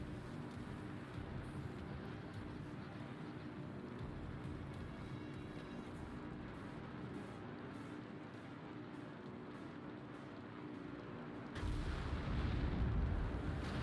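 A dense, rumbling roar of distant explosions and gunfire from a naval battle in the World of Warships video game, with the USS New Mexico battleship, rolls on continuously, swelling louder and heavier toward the end.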